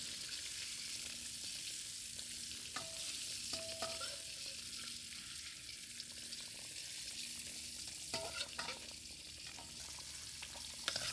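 Chinese-style pork chops fry in hot oil with a continuous soft sizzle and crackle. Scattered clinks and scrapes of cooking utensils are heard around the third to fourth second and again near the eighth. No one speaks.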